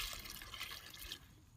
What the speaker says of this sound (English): Now it's time to add my water.